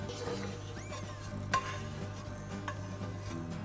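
Yogurt beet soup stirred in a pot, with faint scraping and clinking of the spoon against the pot's sides at irregular moments, set against a low, steady background hum.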